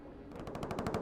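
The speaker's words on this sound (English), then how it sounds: "You can hear the bullets firing in the background." Rapid bursts of gunfire crackle over a military radio link during a close air support call in Afghanistan, a fast machine-gun-like rattle muffled and compressed by the transmission, with no voices.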